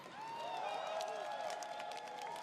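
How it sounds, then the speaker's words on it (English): Crowd applause and cheering at a fighting game tournament for Fatal Fury: City of the Wolves, blended with ringing, tonal music or sound effects, moderately loud and continuous. "let's give a big round of applause to Mitsuhashi"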